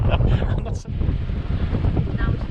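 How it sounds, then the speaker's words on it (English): Steady light breeze buffeting the microphone on a boat at sea, a constant low rushing roar with faint water motion beneath, near and continuous throughout. "A little bit of a breeze, so we're going to be able to get the sails out."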